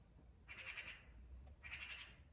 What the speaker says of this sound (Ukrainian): так співають пташки